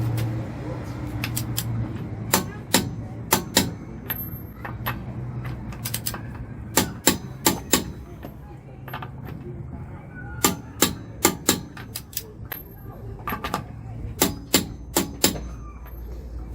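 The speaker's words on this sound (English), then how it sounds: "we're torquing them down to 103 Newton meters" Torque wrench tightening wishbone bolts on a Toyota Yaris, producing sharp ratcheting clicks in quick clusters of two to four, close and crisp over a low background hum.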